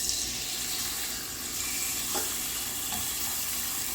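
A cutlet fries in hot oil in a pan, a steady, close, bright sizzle and hiss that holds at even loudness throughout, with a faint clack of tongs partway through and no talk.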